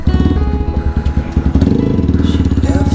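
A modified Apache 200 motorcycle engine, recently choked and still warming, idles close by with a loud, rapid, lumpy thumping pulse and small rises in revs.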